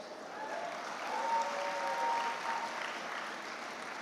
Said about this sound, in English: Tanay Dubey, Pratyush Garg, you can't tire of clapping just yet.